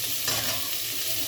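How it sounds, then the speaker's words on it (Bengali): Cauliflower sizzles steadily in oil as it is stirred in a pan for a fish dish, with a brief louder scrape of stirring near the start and no talking. "কপি মোটামুটি ভাজা হয়ে গেছে, আর বেশি ভাজতে হবে না।"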